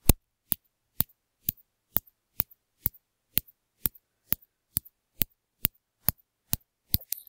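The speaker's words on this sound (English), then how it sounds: "to do some beats on my microphone here" A steady series of sharp taps on a microphone, evenly spaced about twice a second, close and crisp with silence between them, a few softer ghost taps near the end.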